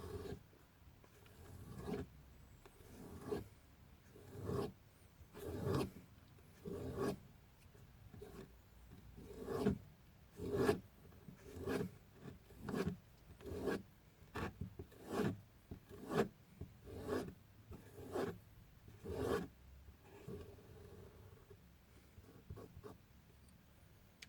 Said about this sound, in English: you're just going to pull your knife towards you with quite a little bit of force